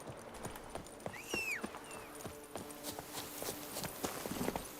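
Horse hooves trot through The Witcher 3 in a steady clip-clop of close, rhythmic footfalls, with a few brief chirps and ambient game sounds over them.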